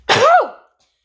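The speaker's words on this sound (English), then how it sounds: "I'm gonna sneeze." One sharp sneeze from an adult, close and loud, a quick burst trailing into a falling tone and then silence.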